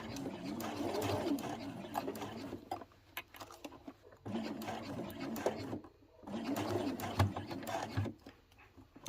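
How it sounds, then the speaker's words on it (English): A sewing machine backstitching a beginner flat pouch at a construction stitch length of about 2.4, running in bursts of steady mechanical whirring with brief slowdowns and pauses between passes. "I'm just going to back stitch"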